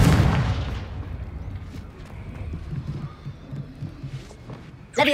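Confringo, a fire spell in the video game Hogwarts Legacy, lands as a deep rumbling blast that fades into a low, busy background, followed by a sudden sharp burst at the end.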